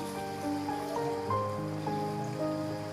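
Cooled water from boiled chickpeas is poured into a pot, a steady splashing, gurgling stream heard close for a few seconds.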